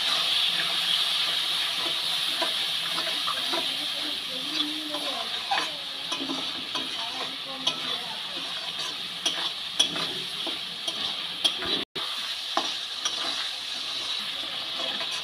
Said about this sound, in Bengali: মশলা দিয়ে ভালো করে টমেটোটাকে কষিয়ে নিচ্ছি।